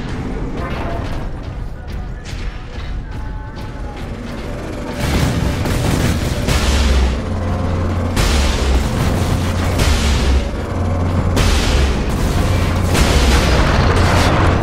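A lascannon fires in the video game Warhammer 40k: Space Marine, heavy booming blasts punching through dense battle noise and rumbling effects, loud and repeated over about fifteen seconds.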